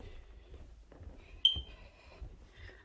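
A smoke detector with a low battery gives a single short, high chirp in a quiet room, moderately loud against a faint background murmur.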